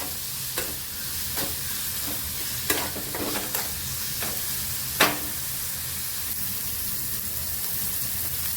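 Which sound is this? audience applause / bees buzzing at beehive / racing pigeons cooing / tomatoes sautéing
tomatoes sautéing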